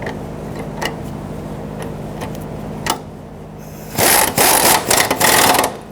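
A ratchet tightens the fuel pump assembly bolts on a 2006-2012 Toyota RAV4, scattered single clicks giving way to quick, close bursts of rapid ratcheting near the end, against a low steady hum.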